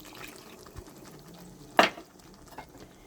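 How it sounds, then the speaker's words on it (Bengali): Water from rinsing a bowl is tipped into a pan of chicken curry with black cumin paste, giving one short, loud splash and sizzle, with quiet stirring and pan sounds around it. "আপনার বাটি ধোয়া জলটা আমি দিয়ে দিচ্ছি।"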